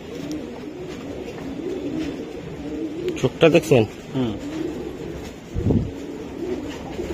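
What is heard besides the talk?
racing pigeons cooing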